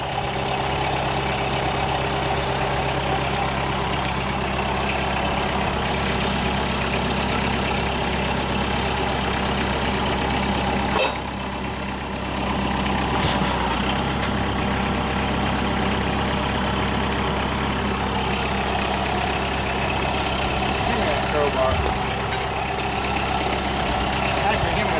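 A Yamaha Wolverine ATV engine idles steadily and close by during tire work, a constant rumbling drone with a brief dip partway through.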